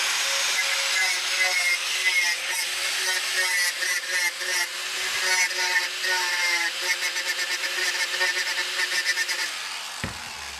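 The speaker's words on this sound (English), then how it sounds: "We'll clean it up some, take off the sharp edges, and then we'll try them." A handheld grinder whines steadily for about ten seconds, smoothing the sharp cut edges of modified duckbill magazines, with a rising and falling pitch as it works the metal, close and loud, then cutting off near the end.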